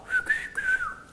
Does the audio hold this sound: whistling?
yes